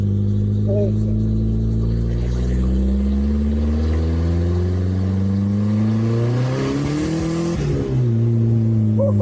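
A 4x4 Vauxhall Nova, a very quick car running slightly below full health, holds a loud, close engine note whose pitch climbs steadily as it revs up, then dips briefly and rises again, with no talk over it.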